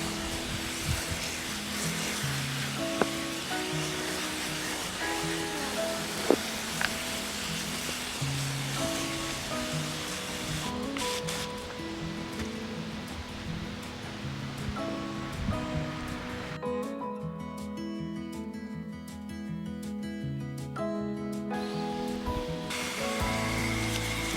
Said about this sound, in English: I add water to moisten the soil in the middle and also on the bottom of the planter.